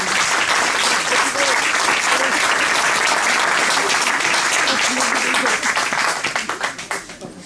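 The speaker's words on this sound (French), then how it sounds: "je vous demande à nouveau d'applaudir ces présidents qui font que nous sommes là aujourd'hui" An audience applauds the association's presidents at a 20th-anniversary celebration, loud sustained clapping from a crowd that thins into scattered claps at the end.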